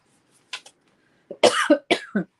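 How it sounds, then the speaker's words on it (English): Several short, sharp coughs in quick succession, close and fairly loud, after a pair of softer throat sounds. "There I go again with the coughing."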